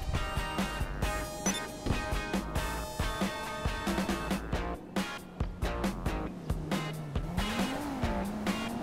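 A car in GTA V is driven off by a valet, with engine drone rising and falling, short tire squeals and game music or effects layered over it at moderate level.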